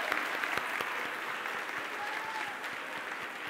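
Worship congregation clapping together in church during a twelfth-anniversary Sunday morning service, a steady continuous wash of many hands sustained throughout at even volume.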